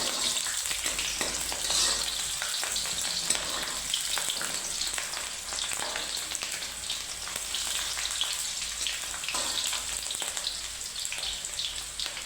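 Chicken sizzles and fries in a pan with stone-ground masala, a steady crackling hiss with occasional stirring scrapes running throughout, close and fairly loud.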